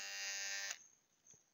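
A Bombay Shaving Company electric trimmer runs with a high buzzing whine from its blades, steady for most of a second and then cutting off, followed by a faint click.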